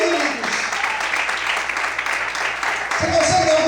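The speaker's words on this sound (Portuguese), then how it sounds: "Aplauda o Senhor e glorifica Ele" A church congregation applauds during a sermon, a dense, steady patter of many hands clapping that gives way to a voice near the end.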